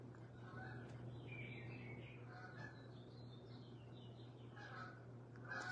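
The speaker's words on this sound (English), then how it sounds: "Y'all hear the birds in the background?" Faint, scattered bird chirps and tweets sound in the distance over a steady low hum, with thin calls drifting in and out across the background.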